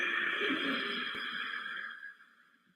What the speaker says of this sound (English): some people translate it or call it oceanic breath because inside your head it sounds like waves crashing on the ocean